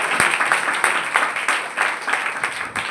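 A church congregation at a fasting revival meeting claps together, a lively run of dense, fairly close handclaps filling the whole moment.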